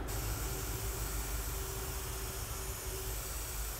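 Fine water jet from a spray nozzle aimed at a car wheel and tire, heard as a steady, even hiss that continues unbroken for a few seconds with no talking.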